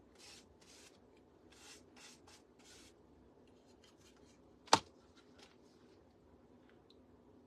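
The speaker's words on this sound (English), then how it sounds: "I'm going to put some candle wax on it" Candle wax rubbed by hand onto a wooden cigar box, a series of soft dry rasping strokes in short bursts, then a single sharp knock, with quieter scraping after it.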